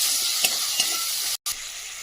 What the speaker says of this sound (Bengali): এখন দিয়ে দেবো আদা আর রসুন বাটা। এটা দিয়েও আরেকটুখানি কষে নেব।